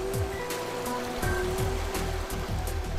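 A stream rushes steadily through a narrow limestone gorge in winter, a close, loud and continuous flow of water with no voices.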